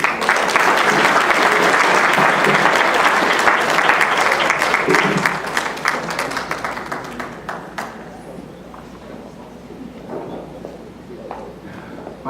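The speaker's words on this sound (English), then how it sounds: "I think Marian and Professor Wilson deserves a bigger applause than that." Applause from a gala audience after a speech, loud sustained clapping for about six seconds that then tapers into scattered claps and quieter room noise with brief voices.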